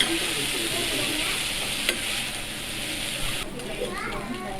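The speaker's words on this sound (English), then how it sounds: "And mix them together." Okonomiyaki batter loosened with broth being mixed on a hot restaurant griddle, a steady sizzle with scraping stir strokes throughout, close and fairly loud, with faint voices in the background.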